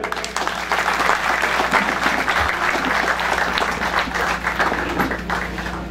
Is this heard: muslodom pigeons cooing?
no